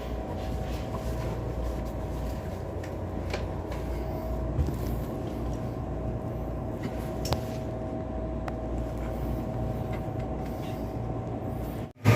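A Korail electric locomotive hauling a Mugunghwa train at Hallimjeong station rumbles steadily nearby with a constant low drone and faint electric whine, a couple of brief clanks, ending in a sudden loud thump.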